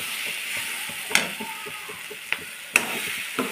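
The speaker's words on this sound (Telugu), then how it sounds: "ఇదిగోండి పన్నీర్ వేసేసాను, మంచిగా ఫ్రై చేసుకున్నాను." Paneer cubes frying gently in a pan for green peas paneer palak curry, a soft sizzle broken by a few sharp utensil clicks and scrapes.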